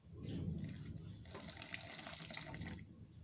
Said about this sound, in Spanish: vamos a ir agregando poco a poco y con mucho cuidado nuestra agua de infusión de cáscaras de tomate